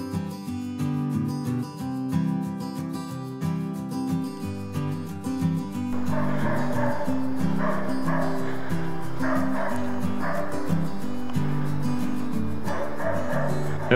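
A Laika hunting dog barks and yips repeatedly during a moose hunt, with steady, insistent barking heard throughout at a moderate distance.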